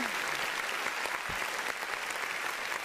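A studio audience on a television talk show breaks into steady, sustained applause, a dense wash of many hands clapping without pause.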